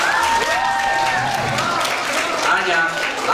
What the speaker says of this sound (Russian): Аплодисменты еще разок.